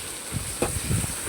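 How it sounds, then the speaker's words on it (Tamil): Chopped tomato, onions and mustard seeds sauté in a hot pan for a lentil-ball kuzhambu, with a soft continuous sizzle and a few brief stirring scrapes close by. "அதையும் போட்டு வதக்கிக்கலாம்."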